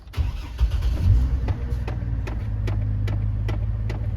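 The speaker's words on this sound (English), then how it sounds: "Let's go and start the car." A Chevrolet TrailBlazer's engine cranks briefly, catches and settles into a steady idle, with a few sharp clicks and ticks over the running engine, close and loud with no talk.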